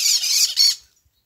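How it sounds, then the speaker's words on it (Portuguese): Parakeets squawking while feeding on pinhão pine seeds, a burst of harsh, raspy calls lasting under a second with a short break, then quiet. "Periquito chegando aqui."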